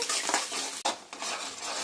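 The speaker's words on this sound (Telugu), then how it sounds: "ఒకసారి తిప్పి వేయించుకుందాము." Onions sizzle in a hot pan while a spoon stirs and scrapes against the metal in a few quick strokes, close and fairly loud.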